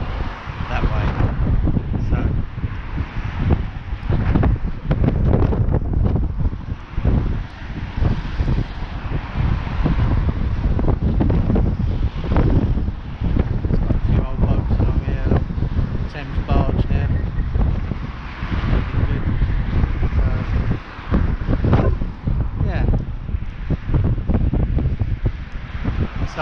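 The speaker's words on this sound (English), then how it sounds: "you may not be able to hear me over the sound of the wind and the noise of the traffic" Heavy wind buffets an outdoor microphone on a riverside walk, with constant rumbling gusts and faint traffic noise underneath, loud and unbroken throughout.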